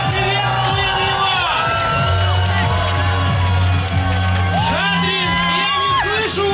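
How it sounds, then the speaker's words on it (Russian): A crowd in Shadrinsk welcomes the Olympic flame on its relay toward the Sochi Games, cheering and whooping loudly and continuously. Shouts rise and fall over a steady tonal hum, with voices mixed into the din. "Давайте аплодисментами поприветствуем его!"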